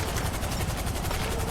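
A helicopter in the video game GTA 5: steady, loud rotor wash with a fast rhythmic chop runs the whole way through, with no one talking.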